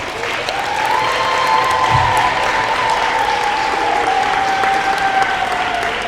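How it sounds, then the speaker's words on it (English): A crowd applauds steadily as a senior walks out at a St. Thomas Aquinas senior night ceremony, the clapping sustained and fairly loud throughout, with a faint tone drifting above it. "So we can do a short round of applause as she walks out."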